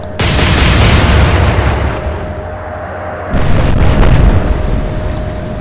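Naval guns fire a salvo in the Atlantic Fleet game, Royal Navy against Kriegsmarine: a loud, sustained roaring boom that fades, then a second heavy blast rumbles out, with no talking.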